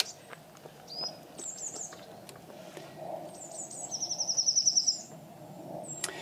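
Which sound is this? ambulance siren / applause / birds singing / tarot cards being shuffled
birds singing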